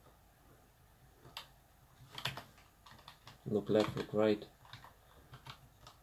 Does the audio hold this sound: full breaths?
no